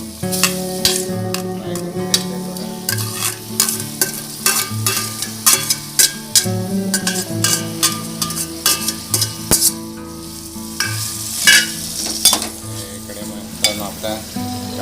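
Onion and tomato fry in hot oil in a pot, a continuous sizzle broken by repeated sharp clinks and scrapes of a spoon stirring against the metal, close and fairly loud.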